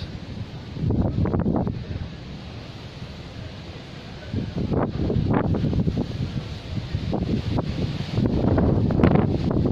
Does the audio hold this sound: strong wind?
yes